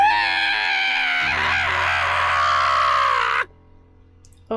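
A man lets out a loud, sustained scream that wavers in pitch for about three seconds, then cuts off abruptly into near silence.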